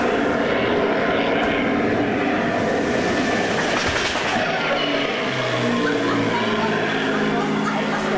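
A loud, continuous roar of attacking aircraft engines, a sound effect on a Disney-MGM Studios theme park tram tour, fills the whole stretch, with a rumbling drone that shifts slightly in pitch over time.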